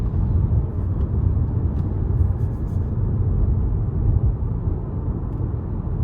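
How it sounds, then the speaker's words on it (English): Inside a 2025 Toyota Camry XLE on 18-inch alloy wheels cruising an industrial road, a constant low rumble of tire and road noise fills the cabin, steady and muffled with no speech. "The road noise, even on this industrial road, is really good."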